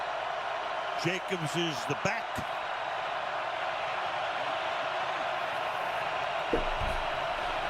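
Stadium crowd roaring at full volume in a Green Bay Packers vs Detroit Lions football video game, a constant dense wash of noise throughout, with a commentator speaking briefly over it early on.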